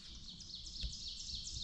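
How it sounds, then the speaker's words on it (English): Birds singing on a secluded morning, with quick repeated chirping phrases that stay clear and fairly faint against a soft background hush and no voices. "But the birds are singing beautifully this morning."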